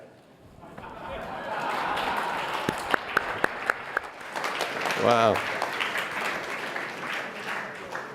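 Audience applause at a technical symposium session, a broad wash of clapping that builds and holds for several seconds, with a few sharper claps standing out and a voice exclaiming briefly over it.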